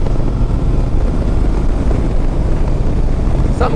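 A 2009 Yamaha 950 Tourer V-twin motorcycle under way, its engine a steady, loud, low roar mixed with heavy wind rush throughout, with no one talking.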